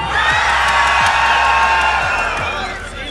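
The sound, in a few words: crowd shouting and cheering loudly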